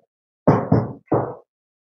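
The bottom panel of a large pull-out wooden drawer is knocked into place with three sharp, close knocks, two quick ones and then a third after a short pause, in an otherwise quiet room.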